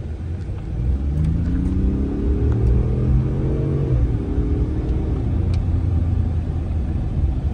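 Car pulling away during a test drive, its engine rumbling steadily inside the cabin as revs climb through rising gear sweeps then level off, loud and close with no talk.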